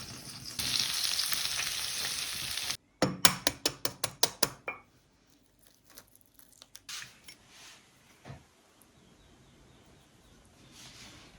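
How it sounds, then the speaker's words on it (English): Asparagus spears dropped into melted butter in a pan start a loud steady sizzle, broken by a burst of rapid clattering as they are placed and shifted, then fading to softer intermittent crackles and taps. "now I'm going to place all the asparagus in the pan"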